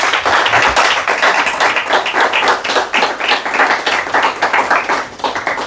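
Church congregation clapping together in steady, dense applause during a worship service, loud and continuous throughout with no speech over it.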